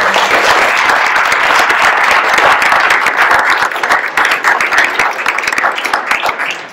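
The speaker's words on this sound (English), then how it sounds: "So let's give Lance a round of applause." A parish meeting audience bursts into loud, dense applause, a close, continuous wall of many hands clapping that starts to thin and break up near the end.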